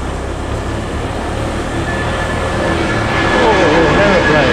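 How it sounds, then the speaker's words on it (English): A broad, steady roar of an airplane passing overhead a residential subdivision in Davao City, Mindanao, Philippines, growing slightly louder toward the end, with faint background noise. "Oh, an aeroplane."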